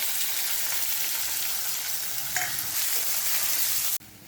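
Onion added to hot oil with cumin and garlic in a pan sizzles loudly and steadily, a dense continuous hiss close by that cuts off abruptly near the end.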